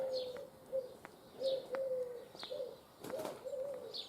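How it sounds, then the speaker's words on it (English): A wood pigeon coos repeatedly from a tree beside a road, giving soft, evenly spaced low calls with brief rustles and wing sounds between them, faint and at a moderate distance. "There's a hell of a commotion going on up in that tree there. Looks like a wood pigeon has got stuck."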